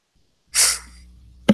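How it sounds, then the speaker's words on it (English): Person sniffling: a quick sharp nasal intake of breath, close and fairly loud, followed by a faint low hum and a brief second click-like sound at the end. "Excuse me for my sniffling."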